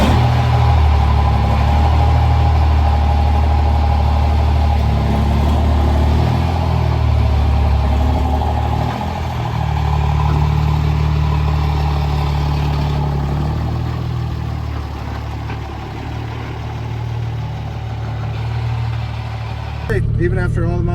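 A modified 2005 Cummins diesel truck engine running close by, a heavy steady rumble with rises in pitch as it revs, loud throughout with speech over it.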